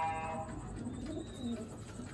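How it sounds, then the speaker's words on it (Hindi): Pigeons coo softly in short, low calls amid faint background noise, ending with a brief louder knock. "कबूतर"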